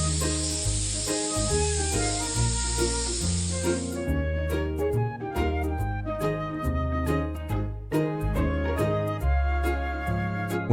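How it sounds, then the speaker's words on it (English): A spray gun applying high-gloss protective varnish to a Porsche 911 model hisses steadily for about four seconds, then cuts off, leaving background music playing alone. "also spray a layer of high-gloss protective varnish."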